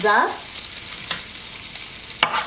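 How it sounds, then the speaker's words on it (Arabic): Garlic frying in olive oil in a pan as it is stirred, a soft continuous sizzle with occasional light spoon taps and a brief tonal clink at the start, close by and without speech. "كنحركوها مزيان باش نشحروا هاد الثومه"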